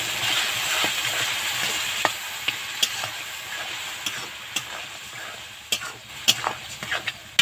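Ground spice paste with a splash of water fries in hot oil for a Bombay duck (loitta) fish curry, a continuous hiss and sizzle broken by sharp spoon scrapes and clicks against the pan as it is stirred.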